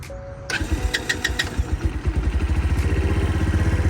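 A Boom Vader BD-125 Grom clone motorcycle engine cranks, catches and fires up, then settles into a steady, close, rapid idle with mechanical clatter.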